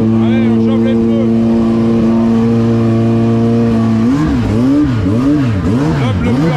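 Hayabusa turbo motorcycle warming its tires, a loud close engine holding a steady high idle before rising and falling in repeated throttle revs.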